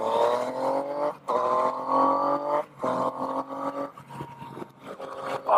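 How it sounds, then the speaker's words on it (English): A Yamaha FJ-09 (Tracer 900) motorcycle with a Yoshimura exhaust rides along, its engine droning and rising in pitch through several gear pulls, each broken by a short dip between shifts, moderately loud with wind noise. "See, you can hear that Yoshimura exhaust."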